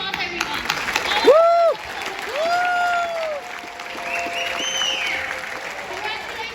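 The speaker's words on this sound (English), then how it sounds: "let's give a round of applause, everyone." A graduation ceremony crowd at CDU in 2022 breaks into applause for the graduates: continuous clapping from many hands, with whoops and cheering voices rising over it.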